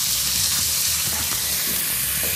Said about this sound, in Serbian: ovdje isto pržim u istoj tavi, znači pržim luk, pržim gljive